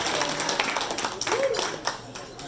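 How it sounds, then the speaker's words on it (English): An audience at a Lions district installation dinner gives a round of applause, a dense, fairly loud patter of many hands clapping with a voice audible over it. "let's have a round of applause for PDG Esther Lee,"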